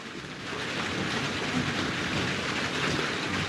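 Rain falls in a steady, even hiss that stays constant throughout, moderately loud and unbroken, with no voices over it.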